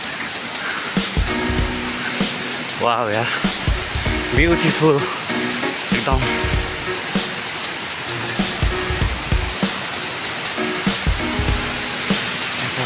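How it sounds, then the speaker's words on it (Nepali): The waterfall at Sundarijal pours with full force, a steady loud rush of water close by. People talk excitedly over the roar, and brief thuds and rustles of handling come through. "एउटा झरना चाहिँ आयो तर कुन झरना हो थाहा छैन"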